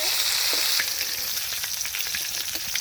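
Pieces of fish fry in a pan with a bright, continuous sizzle and crackle, plus occasional soft ticks and spatters, close and steady throughout.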